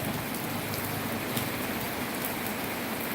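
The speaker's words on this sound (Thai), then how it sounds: "ไม่มีลมค่ะไม่มีลมฝนตกแต่ไม่มีลม" Steady rain falling with no wind on a rural home in northeastern Thailand on a rainy morning, an even dense hiss of drops on surfaces throughout, no voices.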